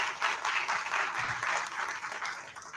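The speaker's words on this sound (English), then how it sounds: "I think sir deserves a thunderous round of applause for taking out time and for being with us today" An audience at a moot court competition gives a guest judge, a former High Court justice, a sustained round of applause, dense and steady throughout with no talk over it.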